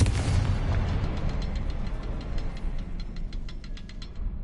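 A Confringo blasting spell goes off in Hogwarts Legacy: a loud booming explosion opens the clip, then its rumble slowly fades under a string of faint ticking clicks.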